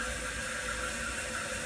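A toilet tank refilling with water after a flush, a steady, close hiss and rush of water running continuously without breaks, with no talk.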